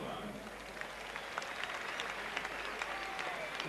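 A large stadium crowd at the 1987 World Championships in Rome murmurs and claps with scattered applause as athletes are introduced before the men's 100 metres final, the sound distant, diffuse and fairly faint.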